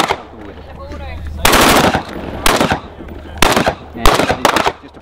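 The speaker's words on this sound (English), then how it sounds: "this is the main weapon of choice, as you can hear. Shots being fired." Bursts of rapid automatic fire from an Australian military assault rifle at a shooting range on a Middle Eastern army base: several loud, sharp volleys close by, separated by short pauses filled with faint background voices.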